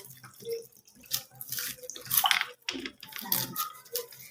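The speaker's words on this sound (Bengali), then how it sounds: "তাহলে টমাটোটা গোটাই ধোয়া ভালো" Running water splashes over a whole tomato at a kitchen tap, uneven gushing and dripping bursts that start and stop, close and moderately loud.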